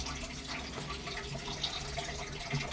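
Water from cooked rice drains through a strainer in a soft, continuous trickle and splash, quiet and close, with no talking.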